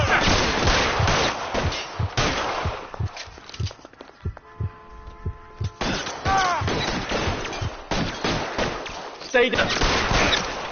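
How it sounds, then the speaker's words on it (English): Repeated gunfire in a shootout in the game LA Noire, sharp shots in bursts and volleys over about ten seconds, with a pause partway through, while someone shouts short commands in between. "Suppression fire."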